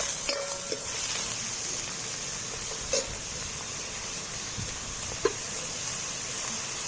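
Finely chopped onions frying in a pan for Andhra-style chilli chicken, a constant hiss of sizzling oil with a few brief clicks of a spatula stirring, close and steady.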